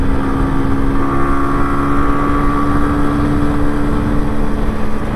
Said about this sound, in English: Riding me MZ home with a new MOT.